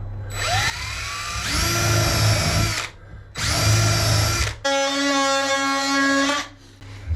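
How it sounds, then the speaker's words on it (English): A power tool whines loudly at close range in three bursts of high-pitched buzzing separated by short pauses, the last burst shifting to a steadier, more tonal drone, while an oscillating multi-tool cuts into wood. "Then I use the multi-tool."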